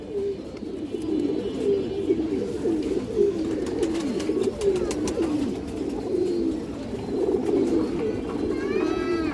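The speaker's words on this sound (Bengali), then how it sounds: "এই যে দেখেন মাদি কবুতরটা" Pigeons coo steadily in low, throaty murmurs, several birds overlapping close by, including a female highflyer pigeon, with a few faint chirps above.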